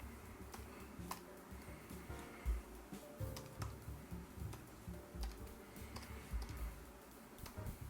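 Fingers type a credit card number on a computer keyboard, a faint, irregular run of light key clicks over low room noise, with no talking.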